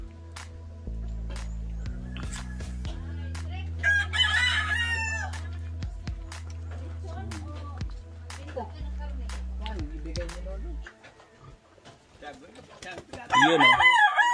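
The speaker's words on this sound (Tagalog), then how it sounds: "Pulang manok na pang sabong. Ang dami dito." Several fighting roosters crow at a distance and close by, with chickens clucking around them over a low steady hum.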